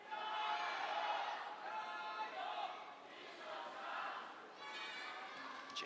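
Spectators at a women's singles table tennis match at the 2015 World Table Tennis Championships chant loudly in support of Li Xiaoxia, with repeated rhythmic group shouts rising and falling in a large arena.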